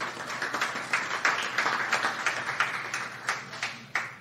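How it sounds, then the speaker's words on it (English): An audience applauds two guests at a hockey talk show taping, a thin, moderate round of hand claps with distinct individual claps standing out, fairly close and without talk. "please give a round of applause for these two"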